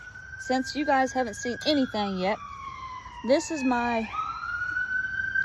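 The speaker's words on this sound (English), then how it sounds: "sorry about the sirens" A wailing siren rises and falls in the distance, continuing steadily beneath a person talking nearby.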